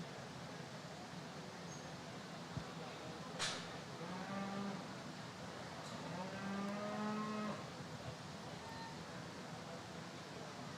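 Cattle at a beef show with cow-calf pairs moo in two long, drawn-out calls, one midway and one later, over a steady hum of crowd and barn noise; a faint voice speaks in the background.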